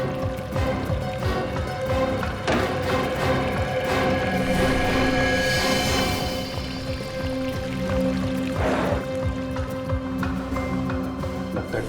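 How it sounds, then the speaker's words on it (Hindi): Water running in a hotel room, a steady splashing, pouring flow with a hum underneath, continuous and fairly close. "पानी की आवाज।"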